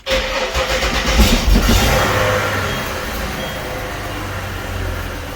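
A ute's engine, unused for a few weeks, cranks and catches, then settles into a steady, fairly loud running rumble close by.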